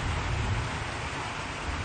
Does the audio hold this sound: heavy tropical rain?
yes